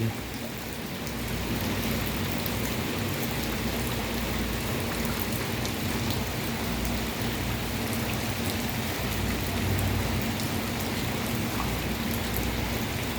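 Floodwater fills a city street in Malate, Manila, near a college. A dense, continuous rush and hiss of water and rain runs steady and fairly loud for the whole stretch, with no voices.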